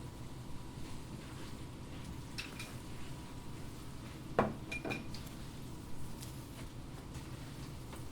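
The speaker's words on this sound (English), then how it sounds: "I'm just stirring it up" Spaghetti al limone with lemon juice being stirred in a pan: quiet, low scraping sounds with a couple of brief utensil clinks against the pan near the middle.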